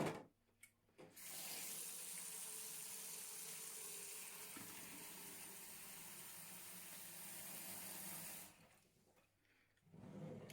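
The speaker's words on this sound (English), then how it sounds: "I'm just going to soak" Kitchen tap water runs steadily into a sink to soak a dish, a continuous splashing hiss for most of the stretch that is turned on after a few clicks and shut off near the end.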